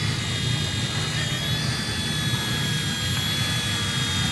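An RC ERA C138 Bell 206 RC helicopter takes off and flies, its electric rotor and motor giving a steady, close, high whine with a constant buzzing hum throughout.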